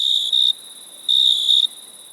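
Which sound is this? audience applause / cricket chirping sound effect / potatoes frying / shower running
cricket chirping sound effect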